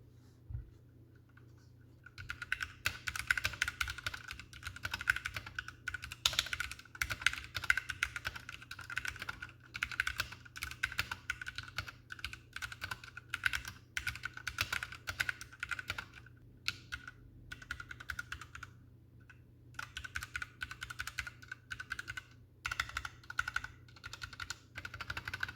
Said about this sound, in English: I'll give you a quick typing test so that you can hear kind of the sound signature of this